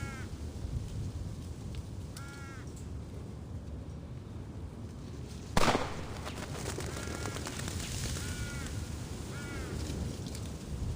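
A single sharp video-game gunshot cracks once midway through a quiet outdoor scene in Reverse: 1999, where crows caw intermittently over a steady background hiss.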